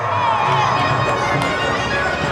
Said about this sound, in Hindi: एक बार जोरदार तालियां बजाएंगे, उनका स्वागत करेंगे, अभिनंदन करेंगे